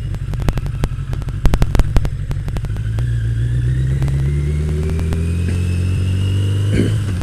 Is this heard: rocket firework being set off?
no